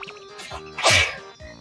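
A single sharp sneeze bursts out in the background during a Banjo-Kazooie speedrun, brief and fairly loud, set against game sounds and music.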